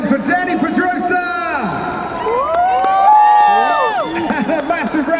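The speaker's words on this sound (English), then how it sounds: "And a massive round of applause as Mike continues on his way." A crowd at a Qatar Airways MotoGP stunt bike event at Lusail cheers and whoops loudly and steadily, rising cries and shouts layered over constant babble, swelling near the middle, with an announcer's voice mixed in.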